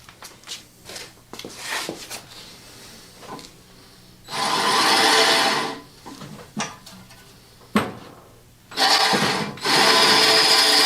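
Deburring tool grinding burrs off metal shrapnel during a 14-inch Delta bandsaw restoration, in two loud, steady bursts of a couple of seconds each, separated by quieter clanks and handling noises.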